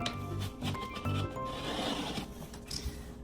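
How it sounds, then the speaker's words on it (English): Utility knife blade scoring a sheet of drywall for a repair, a close scraping rasp drawn along the gypsum board in a few strokes over a low steady hum, with no voices. "See how I just scored it one time?"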